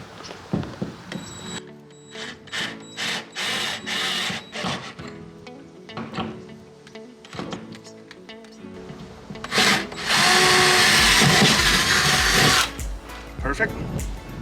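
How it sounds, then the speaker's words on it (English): Drill bit boring through a shed wall in repeated close bursts, each growing loud and harsh, with a long sustained run near the end and a person speaking between bursts. "that drill bit's going to open this up just enough to stick my Sawzall in"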